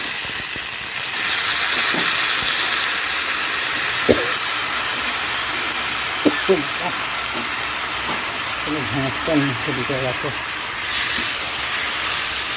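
Goat liver and fat hiss loudly and continuously in a hot pan, a close, bright sizzle with occasional utensil taps, while a voice speaks intermittently over it.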